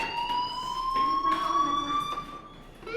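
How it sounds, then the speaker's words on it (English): A fire alarm rings through a school building in the video game Life Is Strange, sounding as a steady, high electronic tone that carries on for the whole stretch at moderate loudness. "Hey, do you hear that fire alarm? That means you should be outside."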